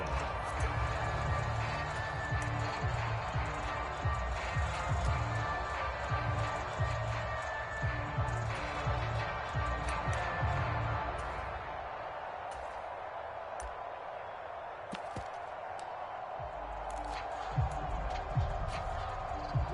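Stadium crowd roar in a Madden NFL game during a Pittsburgh Steelers franchise match, a loud continuous wash of cheering that dips midway and swells again, with commentary voices over it.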